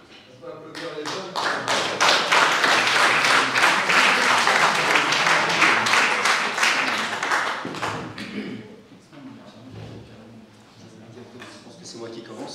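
Sustained applause from a conference audience fills the hall, dense clapping that builds quickly, holds for several seconds, then thins out and fades with scattered claps.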